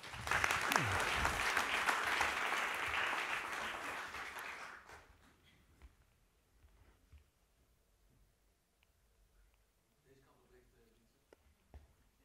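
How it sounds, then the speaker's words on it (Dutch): Applause from a university lecture audience rises at once and fills the first five seconds loudly, then cuts off abruptly, leaving a quiet room with faint shuffling and small knocks. "Geef me een hartelijk applaus, dames en heren."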